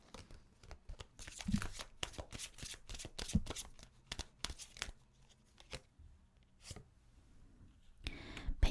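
Tarot cards being shuffled and drawn for a weekly fortune reading: a fast run of crisp riffling card slaps and flicks, then scattered single card snaps and a brief rustle near the end, close and moderately loud with no talk.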